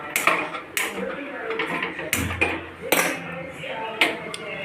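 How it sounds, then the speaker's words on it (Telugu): Jackfruit seeds roast in a pan on a stove, with repeated close metallic clinks and scrapes at irregular intervals while a person talks. "పనస గింజలు మంచిగా బాండీలో వేయించేస్తాం."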